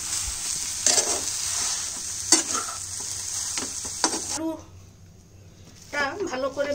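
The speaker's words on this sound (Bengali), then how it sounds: "আলুটা ভালো করে মিক্সড করতে হবে, তার জন্য আমি এটাতে আলু মেশারটা দিয়ে চেপে চেপে মিক্সড করছি" Boiled potato pressed and mashed in a pan with a potato masher while cooking over low heat for prawn paratha filling, soft sizzling hiss with repeated scraping and tapping strokes against the pan, a voice talking briefly near the end.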